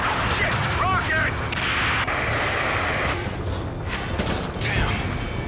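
A rocket explosion in the combat flight game Ace Combat 7 booms and rumbles loud and close amid continuous heavy gunfire and battle noise, with a few sharp thuds standing out.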